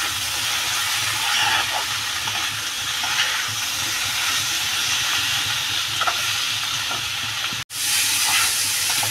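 Fig curry being stir-fried in a pan gives a steady, close hiss and sizzle that runs without a break, with a few faint scrapes and one very short dropout near the end.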